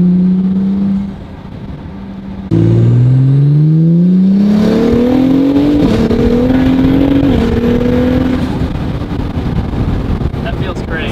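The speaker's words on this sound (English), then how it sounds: "So definitely a little bit of a flutter noise coming when you let off." Acura NSX fitted with upgraded Pure 900 turbos accelerates hard, engine note climbing steadily in pitch through the gears with wind rush, then lifting off with a turbo flutter; close and loud.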